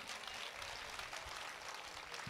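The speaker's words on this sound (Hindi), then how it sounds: "कम से कम आप तालियां बजाने की हिम्मत तो कर सकते हैं" Audience at a Hindi kavi sammelan poetry gathering applauding, a steady wash of many hands clapping, heard faint and distant throughout.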